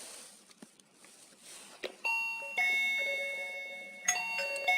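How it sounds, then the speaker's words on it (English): Smart video intercom doorbell for a villa, chiming a bright melodic ring in two bursts, clear and fairly close in a quiet room with no talking. "Press the doorbell."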